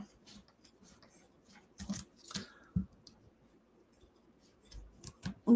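Scissors trimming material for a large project holder: a series of sharp snips and clicks, irregular and close, with quiet gaps between cuts.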